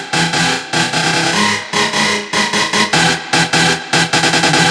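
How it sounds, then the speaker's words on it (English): A driving techno track with a sweeping phaser effect, the loud dense mix chopped into rhythmic stuttering bursts near the end. "which sounds like this. For the phaser."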